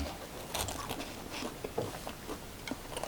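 Someone bites into and chews a steamed meat bun (nikuman), giving soft crunchy bites and close, moist chewing clicks in a quiet indoor setting, with no talking.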